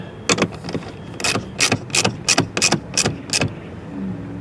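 Metal bolts being tightened on the front license plate bracket of a 2024 Infiniti Q50 Red Sport 400, heard as about eight quick ratcheting clicks in a steady rhythm, close and fairly clear against a quiet background.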